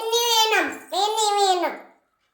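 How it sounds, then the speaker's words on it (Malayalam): A young daughter cries close by in two drawn-out, wavering wails that break off in the middle, with her voice high and strained, and then the crying goes quiet. "നമ്മുടെ മോളെ അവിടെ കരയാൻ തുടങ്ങിട്ടോ."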